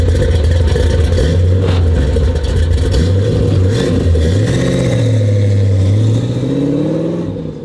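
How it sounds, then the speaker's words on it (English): A 1968 Chevrolet Corvette with a 427 big-block V8 and four-speed rumbles loud and close, its deep idle rising and falling through several revs before easing off at the end. "a 1968 Corvette 427 big block, air conditioned, 4-speed"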